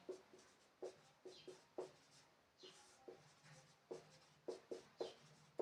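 A pen or chalk scrapes out words on a board or page during a Hindi-language science lesson. The strokes come as quick, irregular scratchy bursts, close and quiet, with no one speaking over them.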